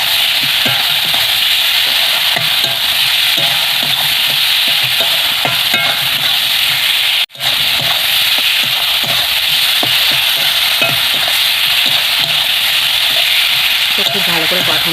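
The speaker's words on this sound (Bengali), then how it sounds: "এখানে ভেজে নিয়ে আলুটা দিয়ে কষিয়ে নেব" Potatoes sautéed with spice masala in a pan for an omelette kalia curry: a loud, constant close-up sizzle with repeated scraping stirs, briefly cut off midway before resuming.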